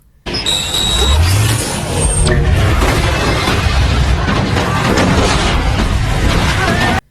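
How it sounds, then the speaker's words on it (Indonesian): A bomb blast in the action film The One (2001) erupts suddenly after a short tone, followed by a loud continuous roar of rumbling debris and crackling destruction that holds at full strength. "Setelah ledakan terjadi"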